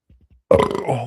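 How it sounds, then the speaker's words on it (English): A single loud, close burp after drinking beer, a deep rumbling belch lasting about half a second, preceded by a few faint soft sounds. "the beer burps"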